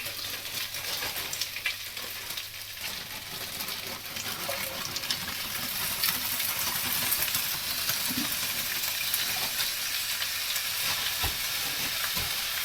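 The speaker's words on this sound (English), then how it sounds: "I'm going to pop some onions in there now" Onions sizzling in a frying pan for a spaghetti bolognese, a steady, fairly loud broadband hiss and crackle that runs throughout, with a few faint knocks.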